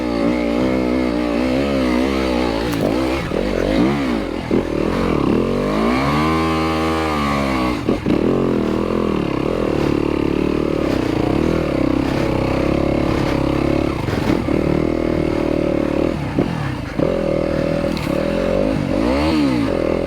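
A Yamaha YZ250FX dirt bike rides slow single track in low gears, its engine note constantly swelling and dropping with throttle blips, loud and close, with scrapes and clatter from the trail.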